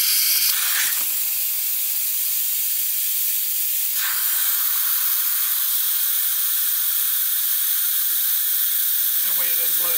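Steam hissing out of an Instant Pot's rapid pressure release valve while hot dogs cook, a steady loud high-pitched jet that runs unbroken throughout, with a brief clunk near the start.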